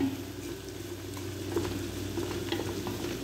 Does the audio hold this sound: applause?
no